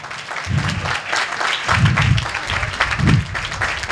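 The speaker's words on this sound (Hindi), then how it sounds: "इस खानदान के लिए भी जोरदार ताली बजाएं" Audience applause at a church gathering, a sustained wash of clapping from a crowd that swells in several waves across the stretch.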